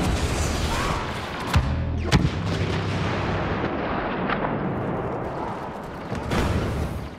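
Sustained rattling gunfire and booming blasts in the Sabotage mode of the EE-4 game on the Belspin map, a dense continuous barrage with a couple of louder sharp bangs near the start, no voices.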